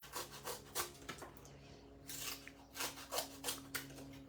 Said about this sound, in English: now I'm just going to cut a few narrow strips here